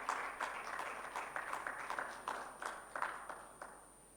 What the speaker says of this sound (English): Ladies and gentlemen, may we please clap for him?